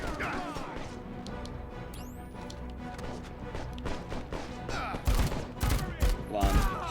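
Gunfire from the video game Dead Rising comes as several loud, punchy bursts near the end, following a stretch of quieter game sounds and a few sweeping effects.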